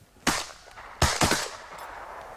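Shotgun blasts from a duck hunt: two sharp, loud reports close together, then a third a moment later, each with a broad crack and a short trailing echo outdoors.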